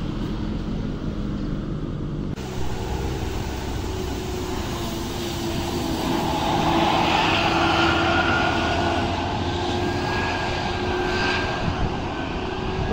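A Budiman intercity bus on the road near Saung Kartika passes with a loud, rising turbine-like engine whine and rushing roar, steady and close, resembling an airplane.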